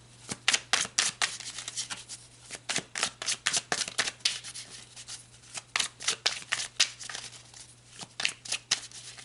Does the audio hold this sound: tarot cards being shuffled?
yes